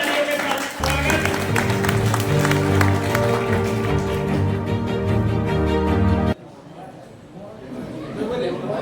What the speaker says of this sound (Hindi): जोरदार तालियों के साथ स्वागत।